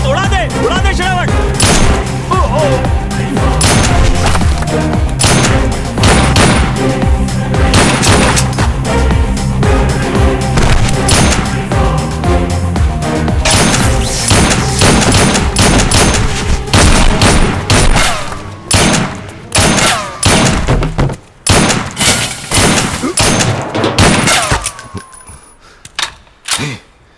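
An action-movie shootout fills the scene with rapid, loud bursts of gunfire, fast volleys layered with echoing shots and dramatic music, thinning to scattered single shots toward the end, with voices shouting between them.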